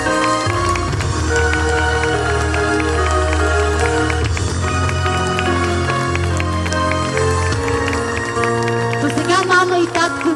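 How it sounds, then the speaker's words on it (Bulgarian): Wedding guests applaud the bride Mariana, a dense, loud burst of clapping that runs steadily under music and the sound of a crowd. "Аплодисменти за прекрасната Мариана!"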